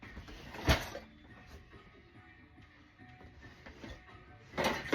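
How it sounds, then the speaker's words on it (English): Gas stove burners are turned on one after another in a makeshift kitchen: sharp knob-turn and ignition bursts at the start and end, with quieter mechanical clicks and rattles in between. "So I'm turning on all the flames on my stove to create a way to heat up my tortillas"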